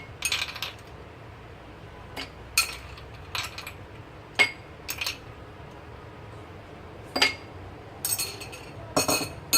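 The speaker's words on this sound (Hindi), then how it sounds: "आइस क्यूब्स डालें।" Ice cubes dropped one after another into a glass for mango squash, producing a series of sharp, bright clinks at irregular intervals, close and clear with no talking.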